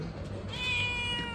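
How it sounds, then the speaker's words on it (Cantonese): A cat meows once, a drawn-out tonal cry at moderate distance in an outdoor tourist spot near a cable car, over low background hum and rustle. "呢度又有隻貓貓啊"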